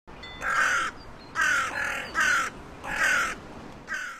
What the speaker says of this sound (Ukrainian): Всім знайоме каркання ворон.